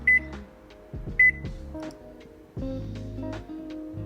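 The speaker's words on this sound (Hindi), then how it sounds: "धोने के बाद इसको माइक्रोवेव में मैं रखने लगी हूँ 2 मिनट्स के लिए" A microwave oven hums steadily while a few short electronic beeps and clicks sound near the start.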